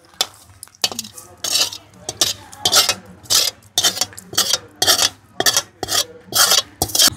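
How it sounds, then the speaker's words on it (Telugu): Rhythmic rasping scrapes from a spoon mixing chicken leg-piece pickle with spices, salt and fried garlic-ginger oil in a large bowl, about a dozen close, evenly spaced strokes with no talk. "ఇప్పుడు కలిపేసుకోవడమే పచ్చడి అడుగు నుంచి."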